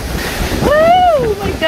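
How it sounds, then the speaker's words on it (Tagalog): High ocean waves crash and surge close by on the coast at Smygehuk near Trelleborg in southern Sweden, with a steady roar of surf and wind, while a voice gives a rising, drawn-out exclamation over it. "grabe ang taas ng alon"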